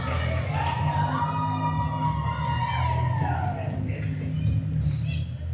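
High school hockey arena crowd between North Oakland and Farmington booing and shouting in loud, sustained protest after an offsides call, with whoops and whistles rising over the din.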